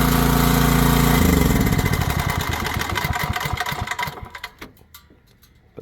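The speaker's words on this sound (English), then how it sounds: "We have to turn off the generator, which isn't a sad thing." A generator engine runs loud and steady at a shop, then shuts off, its hum breaking into slowing chugs and rattles that fade away over the last seconds.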